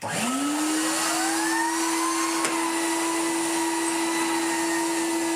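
A corded commercial vacuum cleaner fitted with an electric turbo head spins up from silence into a steady, loud motor whine that holds alone at an even pitch.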